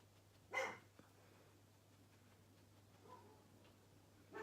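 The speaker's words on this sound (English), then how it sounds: "So the dogs have started barking because they can know he's around." Dogs at home bark at an approaching postman, heard as one faint, distant bark over a quiet room hum with a few soft ticks.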